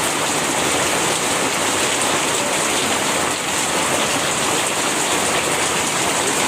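Heavy rain falls steadily and loudly with a dense, unbroken hiss and patter that continues throughout, with no speech.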